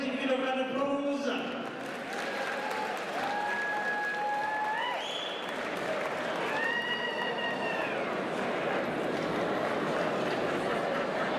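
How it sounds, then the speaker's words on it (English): A crowd at a TMA fight-night event gives the referee a round of applause. The sustained clapping fills the hall throughout, while an announcer's amplified voice carries over it. "If you give a round of applause."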